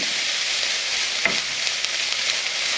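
Beef mince browning in a pan for spaghetti bolognese, a loud, even, hissing sizzle that runs unbroken throughout, with one faint scrape in the middle and no speech.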